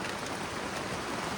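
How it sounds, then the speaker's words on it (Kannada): Heavy rain pours down beside a manure pit in a village, a dense, continuous hiss that stays even and loud throughout with no voices. "ಮಳೆ ಜೋರು ಬರ್ತಾ ಉಂಟು, ಮಳೆ ಜೋರು ಬರ್ತಾ ಉಂಟು."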